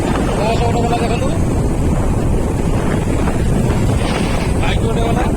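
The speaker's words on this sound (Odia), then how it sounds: "ବହୁତ ଜୋରେ ପବନ ମାରୁଛି" Strong wind roars into the microphone steadily and loudly beside a road, with passing traffic that includes a bus, autos and a bike. Faint voices surface now and then under the buffeting.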